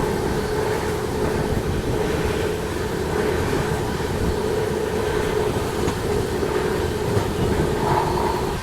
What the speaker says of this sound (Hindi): कमाल की रफ्तार में ट्रेन भाग रही है